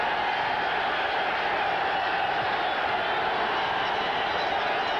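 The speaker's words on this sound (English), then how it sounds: "Crowd kicks in on 3rd down and 10." Stadium crowd at a 1993 NFL football game between the Indianapolis Colts and New York Giants, a steady broad roar that swells on third down, loud and continuous with no breaks.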